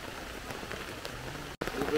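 Heavy rain drums steadily on a tent while wild camping in Wales, a dense continuous patter close around, with a brief dropout near the end.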